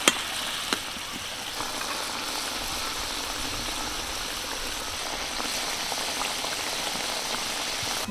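Cabbage curry with gravy bubbling in a pan, a steady soft boil and hiss running evenly throughout, close and moderately quiet.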